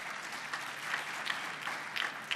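Sustained audience applause at a formal dinner event held by the CRIF in 2016, a dense, steady wash of many hands clapping at moderate distance, swelling slightly toward the end.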